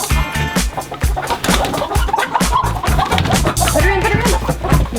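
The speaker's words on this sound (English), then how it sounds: "Beautiful chickens. Aren't they?" Orpington chickens cluck and squawk amid scuffling and bumping as they are caught by hand on a homestead, with people talking close by throughout.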